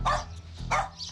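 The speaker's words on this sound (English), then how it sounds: "So I can see a little white Maltese cross-type dog." A small white Maltese cross dog, matted and ungroomed, barks twice in quick succession from a yard with a kennel, short sharp yaps at moderate distance with no talk over them.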